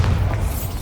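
A Bombarda explosion spell goes off in Hogwarts Legacy, a deep, sustained low boom that rumbles steadily for under a second with a faint crackle on top.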